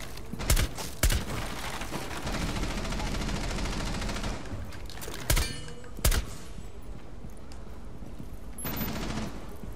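Gunfire in a video game, with bursts of shots striking near the player over a constant loud background, several sharp cracks standing out at intervals.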